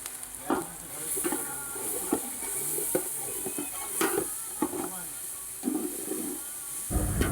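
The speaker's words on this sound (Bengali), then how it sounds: "রসুন বাটা আদা বাটা সব দিয়ে দিচ্ছে দিয়ে ভালো করে আবারও কষিয়ে নেবে" Garlic and ginger paste frying in a pan at home, sizzling steadily while a utensil stirs and scrapes in irregular strokes, close up, with a voice talking faintly underneath.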